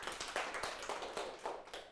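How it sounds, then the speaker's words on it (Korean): Brief, scattered clapping from a small class audience at a university teaching demonstration, fairly quiet, with individual hand claps distinguishable in an uneven rhythm. "그런 의미에서 한 번 더 박수 부탁드릴게요"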